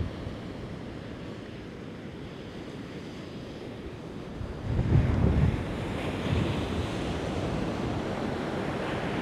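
Ocean waves crash and roll continuously on the Portuguese coast with heavy wind buffeting the microphone, a louder surge breaking midway through.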